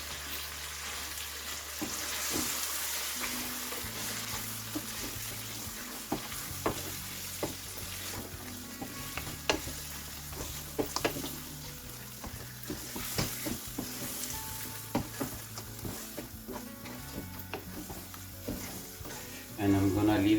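Two medium onions, ground beforehand, fry in a pan for a lamb chops masala curry, with a continuous close sizzle and repeated scraping and stirring taps throughout.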